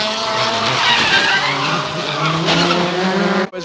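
A race car locks its wheels under braking, its tyres skidding loudly in a long continuous screech with engine noise, close and unbroken for several seconds before a brief drop.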